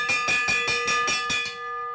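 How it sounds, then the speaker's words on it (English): A lap bell at a track cycling race rings in a fast run of about seven loud, even clangs, then its tone hangs and fades. "They're going to hear a bell in just about a half a second."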